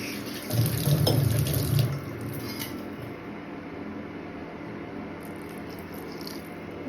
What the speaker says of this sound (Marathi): ह्याच्यामध्ये मी आता हलकं थोडं पाणी घालायला स्टार्ट करेन.